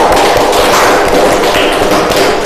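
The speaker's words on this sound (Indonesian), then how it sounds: "Beri aplaus untuk kelompok 1" Group applause for a presenting team in an Indonesian classroom, dense steady clapping filling the whole stretch, loud and close.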